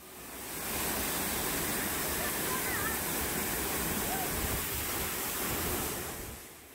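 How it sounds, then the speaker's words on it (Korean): Second and third artificial waterfalls near Seoul starting to flow, a thick continuous rushing roar rising in over the first second, staying loud and close, then easing slightly at the end, with a few faint chirps above it. "곧이어 두 번째, 세 번째 폭포도 떨어지기 시작하네요."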